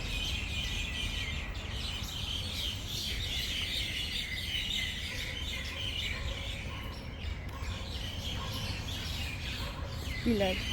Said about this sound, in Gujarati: જો ચકલાનો અવાજ સાંભળો.